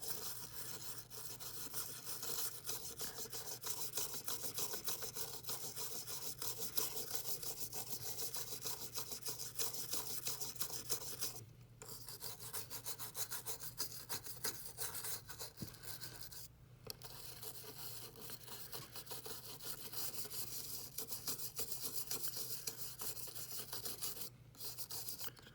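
Brush bristles scrubbing the contacts of a Game Boy cartridge with a potent cleaning solution, a steady close rasping back-and-forth rub that runs continuously with a few brief pauses.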